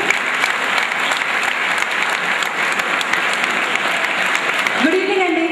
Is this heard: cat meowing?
no